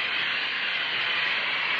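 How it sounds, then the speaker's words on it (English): A blast of hot steam hisses onto Mylar polyester film, a steady, bright, close hiss that sounds continuously and alone for the short stretch. "let's keep a blast of hot steam on it and see."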